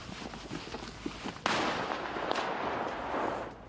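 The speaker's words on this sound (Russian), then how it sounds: "Такие взрывы на Авдеевской промзоне не редкость и во время хлебного перемирия" Explosions at the Avdiivka industrial zone, heard as a faint, distant muffled boom followed by a sharper blast with a rolling rumble and a later smaller crack, under outdoor background noise.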